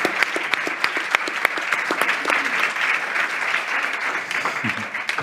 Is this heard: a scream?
no